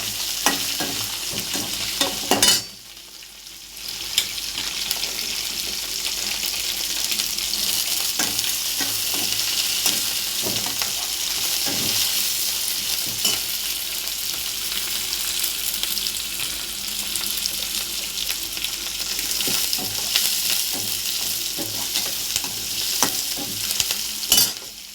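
Onions, green chillies and curry leaves fry in a pan, giving a constant loud sizzle with scraping stirs and a brief dip in the noise early on.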